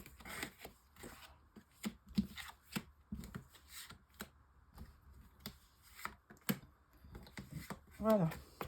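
Tarot cards riffled and shuffled in quick bursts of crisp, papery snaps for a nine-card reading, close and fairly quiet, with brief speech near the end.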